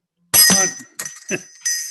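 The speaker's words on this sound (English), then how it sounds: "And Fernando, I'm going to ring my bell because yours is so damn dinky" A hand bell rung at a club meeting held over video call, bright metallic strikes sounding four times in quick succession, each ringing out clearly and close with no talk over it.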